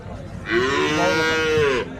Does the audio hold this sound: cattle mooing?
yes